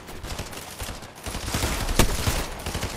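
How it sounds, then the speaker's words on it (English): Rapid Fortnite gunfire, loud bursts of close shots rattling off in quick succession, swelling into a heavier volley with a sharp crack near the middle, no voices over it. "He was shooting at me"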